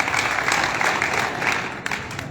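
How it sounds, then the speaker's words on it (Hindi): A crowd at a village panchayat meeting against drug addiction bursts into loud, sustained applause, a dense wash of many hands clapping steadily throughout. "एक बार जोरदार तालियां"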